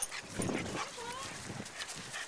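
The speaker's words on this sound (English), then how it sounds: "this poor little dog, he's 9 years old." An elderly nine-year-old dog whimpers and yips in a short burst of a few whines, with brief talk around it.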